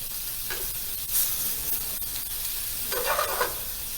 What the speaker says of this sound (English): Once it's pulling away from the pan, then it's ready to go. So you're getting a nice sear like that.